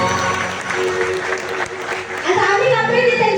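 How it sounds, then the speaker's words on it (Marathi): A crowd applauds at a Shakti Tura folk stage performance, with clapping swelling under an amplified voice and tonal sound that continue throughout and grow louder toward the end. "एकदा जोरदार टाळ्या झाल्या पाहिजेत."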